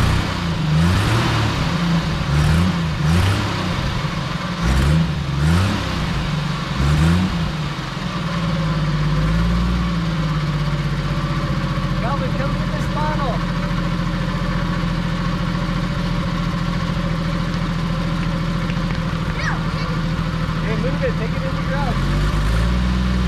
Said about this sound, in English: It started.